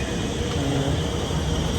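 A train in Singapore bound for Changi Airport gives a steady, loud rumbling roar that holds evenly throughout, with no voices.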